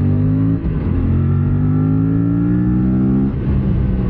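An Aprilia RS 457 parallel-twin motorcycle pulls away from a stop, its loud, steady engine note climbing smoothly in pitch for about three seconds with a brief dip near the start, then settling briefly before rising again.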